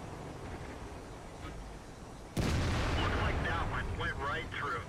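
A tank cannon fires in World of Tanks, an E-75 Tier 9 heavy in battle: one sudden loud blast cuts through low background rumble, then a dense roaring tail with rattling and crackling continues to the end.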